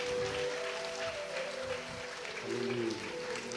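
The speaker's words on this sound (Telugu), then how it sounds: "గట్టిగా చప్పట్లు కొడదాం." An audience at a church ministry gathering claps in a steady, dense wash of applause, loud and continuous throughout, with some voices mixed in.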